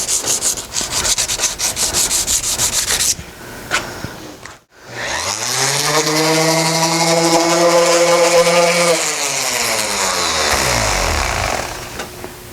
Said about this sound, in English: remove all the guide coat with the sandpaper